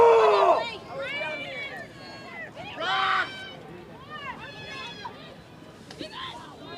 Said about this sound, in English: Crowd getting lively behind us here.